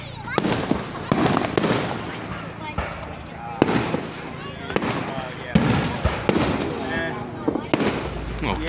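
Fireworks at a 2024 Independence Day display in Marion, Indiana, bang repeatedly in a rapid irregular series of sharp, loud explosions with crackling, while people talk and react nearby.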